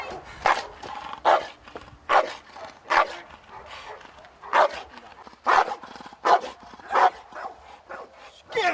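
A protection-training dog barks in loud, sharp bursts at a roughly steady pace, about a dozen barks close by, with quieter whimpers and yips between them.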